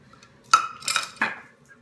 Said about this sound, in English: so I'm using this nice jar of salsa, like a rolling pin, and it's working just fine